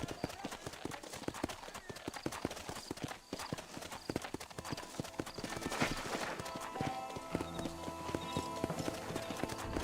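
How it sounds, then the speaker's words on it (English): Horse hooves in the video game Red Dead Redemption clip-clop in a quick, steady rhythm that lasts throughout, together with game ambience and a brief low whinny-like tone. "To spur your horse, you move after tab B."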